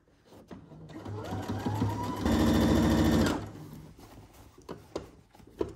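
Sewing machine stitching in the ditch through fabric and lining: the motor ramps up to a brief, close, steady burst of stitching about a second long, with soft fabric rustling before and after.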